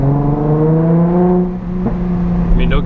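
Nissan 350Z Nismo with a Tomei exhaust holding a steady, deep droning engine note with layered harmonics, then easing off and dropping in pitch midway, with a few faint knocks and a brief squeak near the end.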